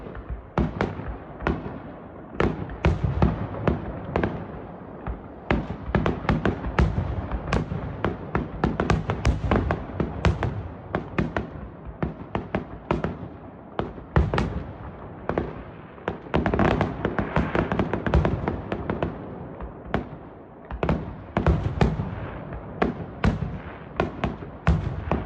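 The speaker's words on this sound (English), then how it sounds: "Wow, that's a lot of fireworks." Dense Fourth of July fireworks display with continuous overlapping bangs, crackles and booms, loud and sustained throughout with no voices.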